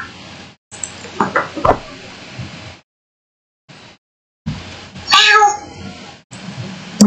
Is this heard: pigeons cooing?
no